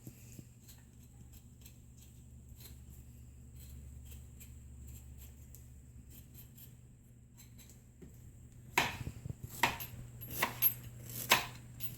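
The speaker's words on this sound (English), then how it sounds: "I'm cutting a little bit of ginger off this big piece." A knife cuts pieces off a big chunk of ginger on a board, a low kitchen hum at first, then a run of sharp, close chopping strikes near the end.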